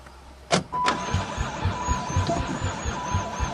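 An old van's stale-fuelled engine catches after refuelling: a sharp starter crank, then an uneven idle that pulses steadily at close range.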